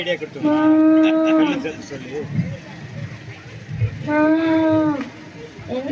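A cow moos loudly and close, two long drawn-out calls separated by a pause, with farmyard rustling between them.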